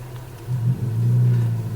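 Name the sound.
loud Subaru WRX car driving ahead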